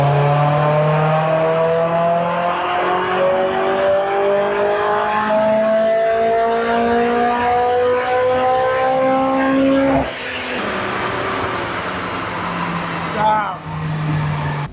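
A tuned car engine revving hard on a dyno while being mapped, a loud sustained high-rpm drone climbing in pitch for about ten seconds before cutting back, with a brief blip near the end.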